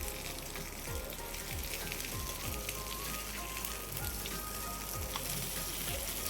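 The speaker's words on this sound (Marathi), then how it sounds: "आपण ही भेंडी आता फक्त उलटायची आहे दुसऱ्या बाजूने, दुसऱ्या बाजूने पण ती छान भाजली जातील" Stuffed okra, bhindi packed with a roasted spiced flour filling, sizzles and fries steadily in a pan, with a dense, even crackle throughout and a few soft scraping stirs.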